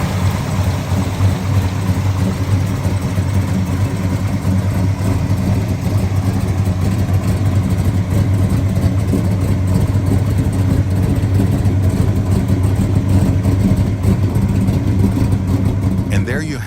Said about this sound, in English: The 454 LS6 represented the peak of the muscle car era.